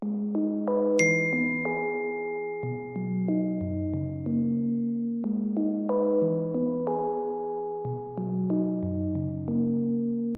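Strummed chords from the Flex plugin preset in FL Studio play the melody, bell-like plucked tones rolling through repeating chord progressions, clean and steady with no voices.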